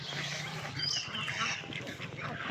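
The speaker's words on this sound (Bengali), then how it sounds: "হাঁস, 1000 হাঁস আছে খামারে। হাঁসগুলো এখন ডিম দিচ্ছে।" Ducks at a farm of about a thousand laying birds give a few quacks over a steady background murmur, fairly close but not loud.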